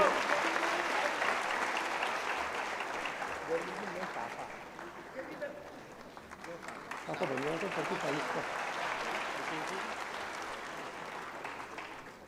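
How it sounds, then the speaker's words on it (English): Steady, dense applause fills a conference hall for the Vice President of India, a long unbroken wash of many hands clapping with faint voices underneath. "Big round of applause, ladies and gentlemen"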